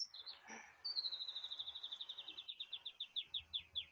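A loud bird call: a long, rapid series of repeated high chirps, slowing slightly toward the end, close by with no talking.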